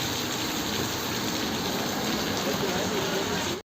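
Steady, loud rain pours down on a rainy day in Israel, a dense continuous wash with gushing water that fills the whole stretch and cuts off abruptly at the end.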